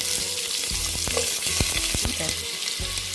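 Green chillies sizzle steadily in hot oil while a utensil stirs them, producing sharp intermittent scraping knocks over the constant frying hiss, close and fairly loud.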